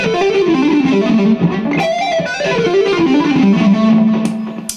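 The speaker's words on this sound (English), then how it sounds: "So again, with a bit of distortion, help everything compress" A distorted electric guitar plays a smooth, flowing legato run, notes sliding and slurring together before settling on a sustained final note.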